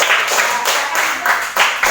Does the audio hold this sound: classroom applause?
yes